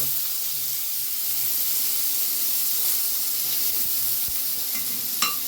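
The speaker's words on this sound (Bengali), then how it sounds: "তেল গরম করে নিয়েছি তেলের মধ্যে দিয়ে দিয়েছি এই যে পেঁয়াজ কুচিয়ে নিয়েছি রসুন কুচিয়ে নিয়েছি কাঁচা লঙ্কা চিড়ে নিয়েছি" Chopped onion, garlic and slit green chilli sizzle and hiss steadily in hot oil in a pan, a close continuous fry with faint stirring clicks near the end.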